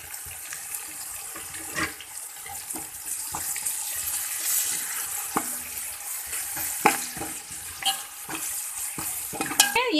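Coarsely crushed green chillies tipped into ginger and garlic frying in a pan for masoor pulao, a steady soft sizzle with scattered clinks and scrapes of stirring throughout.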